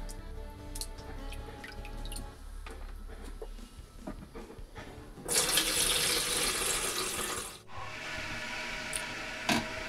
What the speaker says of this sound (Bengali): তো চালটা ভালো করে ধুয়ে